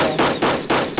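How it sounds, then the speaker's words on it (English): Rapid automatic gunfire from the Roblox game Armored Patrol, a loud, close burst of about four evenly spaced shots filling a single second. "They're shooting at me over there."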